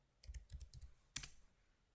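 Java code being typed on a computer keyboard: a quick run of soft, close keystrokes, a short pause, then a few more clicks, all quiet with no talking.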